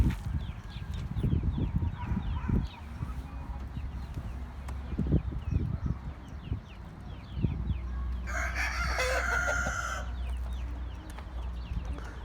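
Seven hens cluck and shuffle nearby in a coop, then a rooster crows loudly and clearly for a couple of seconds, with scratching and rustling around.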